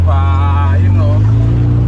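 A Volkswagen Beetle fitted with a Subaru engine gives a loud, steady low engine drone close by, with a voice briefly heard over it.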